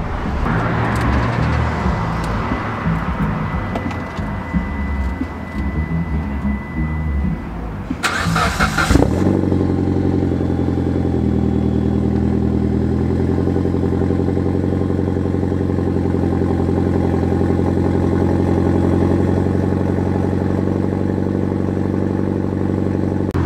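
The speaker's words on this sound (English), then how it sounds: "hit you guys with the cold start again of the Evo" A Mitsubishi Lancer Evo fitted with a Tomei exhaust cold-starts after several seconds of quiet background, firing with a sharp crank-and-catch burst, then settling into a loud, steady, deep idle rumble that holds to the end.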